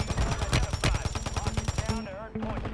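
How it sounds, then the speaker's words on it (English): Light machine gun fire in Warzone on Vondel, a fast steady stream of loud close shots for about two seconds, then tapering into a few trailing tones, with some speech mixed in. "when you have an LMG, you might as well keep shooting, which is what I did there"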